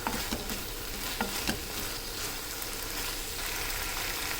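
Tomatoes sautéing and being stirred in a pan for a village-style dry fish curry, a steady broadband sizzle with occasional scraping stir sounds, close and continuous with no talk.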